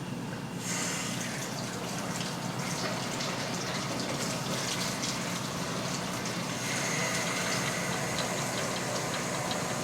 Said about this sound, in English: I'm going to fill this carton up with some water